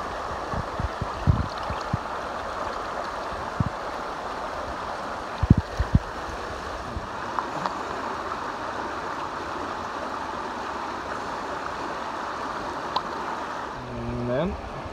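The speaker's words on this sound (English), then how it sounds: "I have this nice stream here." A small stream flows steadily along the Appalachian Trail, a constant close rush of water with a few clunks and knocks as a BeFree water filter is filled in it.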